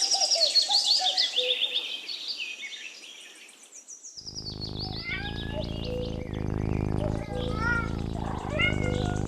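High chirping bird calls come first, then a cat meows several times close up, with short, wavering cries over a buzzy background.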